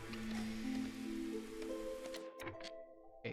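Drizzle falling in the Against the Storm game, a steady soft patter of rain with low tonal ambience that thins out near the end, no voices.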